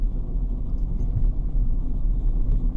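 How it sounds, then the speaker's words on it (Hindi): A car rolls slowly over a small speed breaker in a narrow, tight lane. A steady, close, low engine and road rumble runs throughout with no voices. "ये देखिए स्पीड ब्रेकर था थोड़ा सा"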